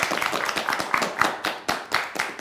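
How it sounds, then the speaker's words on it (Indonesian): A small audience claps, the individual handclaps distinct and fairly close in a quick, slightly uneven rhythm that stays lively throughout, with no voices. "tepuk tangan dong buat Keviro nih"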